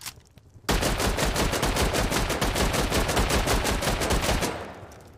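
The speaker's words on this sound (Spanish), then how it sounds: "qué guapo el sonido de la M39 ahora" Rapid automatic fire from an M39 rifle in the game Rust, a dense, loud run of sharp shots that starts abruptly and keeps up for about four seconds before fading out, with no talking over it.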